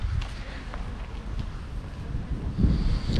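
Gusty autumn wind outdoors in Germany on a cloudy day, a steady rushing buffet across the microphone that swells louder near the end, with no talk.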